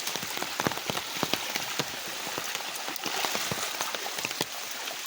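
Rain of the first monsoon shower falls at night on a stream in dense jungle, a steady close patter of drops striking water and leaves, with sharper individual splashes scattered throughout.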